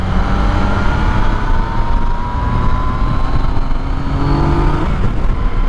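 A Yamaha FZ09/MT09 motorcycle engine while riding, a loud, steady drone with shifting tonal whine as the revs change, close and continuous with wind rush.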